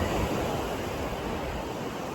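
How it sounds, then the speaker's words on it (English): Strong sea waves break on a Norfolk beach, heard as a steady, broad wash of surf close by with no voices. "if you look at these waves, maybe not so much here, but over there, can you see behind me? They're really quite strong."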